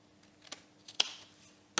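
Scissors trim excess card paper in a few quiet, sharp snips spread over under two seconds, with faint rustling between cuts.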